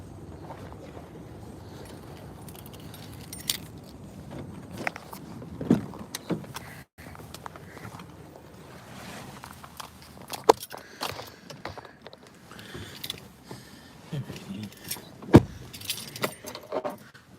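A set of keys jingles and clinks intermittently for a long stretch, close by, with rattles, knocks and handling noises between the metallic jangles.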